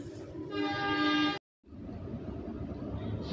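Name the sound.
Serayu train arriving at station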